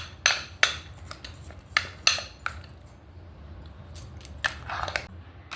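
A spoon clinks against a bowl while stirring mango shrikhand, several sharp metallic taps in an uneven rhythm with a soft scraping of the thick mixture between them, close and fairly quiet.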